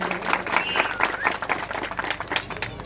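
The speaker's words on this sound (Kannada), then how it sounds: "ನಿಮ್ಮೆಲ್ಲರ ಜೋರಾದ ಚಪ್ಪಾಳೆ ಇನ್ನೊಮ್ಮೆ ಬರಲಿ ನಮ್ಮ ಪ್ರೀತಿಯ ಪುಟಾಣಿಗಳಿಗೆ" A school audience applauds children's kolata stick dance: steady, lively clapping from a crowd filling the space, with some background voices mixed in.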